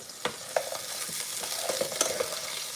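Food sizzles in a skillet with a steady close crackle, punctuated by a few light scrapes and taps of a utensil against the pan; no one speaks.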